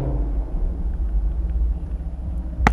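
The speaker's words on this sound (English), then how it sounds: "So when you switch it into tour mode," A 2017 Chevrolet Camaro 2SS convertible running with its dual-mode exhaust in quiet tour mode, giving a low, steady, muted rumble that stays subdued and close throughout.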